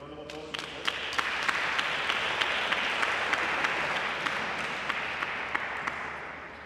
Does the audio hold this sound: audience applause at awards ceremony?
yes